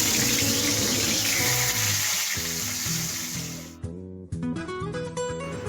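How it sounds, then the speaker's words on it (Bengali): Pieces of rohu fish are dropped into hot oil in a kadai and fry with a loud, steady sizzle that crackles and spits, then breaks off into a few sharp pops and bubbling bursts. "কড়াইয়ের মধ্যে তেল দিয়ে দিয়েছি, গরম হয়ে গেছে। এবার মাছগুলোকে ছেড়ে দিচ্ছি।"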